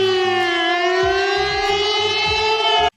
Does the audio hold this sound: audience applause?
no